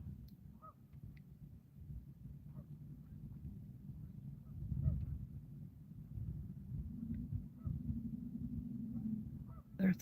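Scattered honks from a flock of geese, some close and some farther off, over a steady low rumble of wind and outdoor background.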